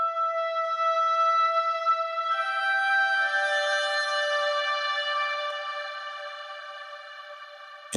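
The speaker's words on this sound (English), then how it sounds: "Mysterious Reed, which is a blend of oboe and clarinets" A Mysterious Reed synth patch blending oboe and clarinets plays sustained, layered reedy chords alone, thickening partway through and then slowly fading toward the end.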